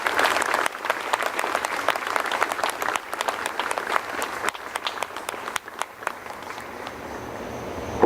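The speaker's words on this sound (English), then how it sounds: "Please join me in a round of applause for these fine future naval officers." Sustained applause from an audience at a Villanova NROTC fall review, honoring midshipmen and future naval officers; dense, steady clapping from a large crowd fills the whole stretch, thinning slightly toward the end.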